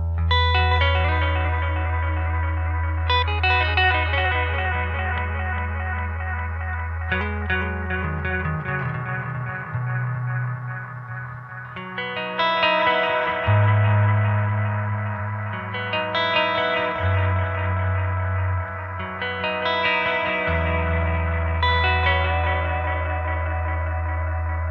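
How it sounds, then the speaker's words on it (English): An electric guitar rings out through a Multi-Echo delay pedal, sustained chords and notes trailing dense repeating echoes and reverb, loud and continuous with no talk. "Let's go to the Multi-Echo really quick."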